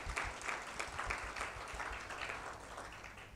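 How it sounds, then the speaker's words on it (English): A faint, steady round of applause from an audience at a Tanzania finance event, even and continuous clapping with no voices on top, heard from a distance. "So please, if you can have a round of applause."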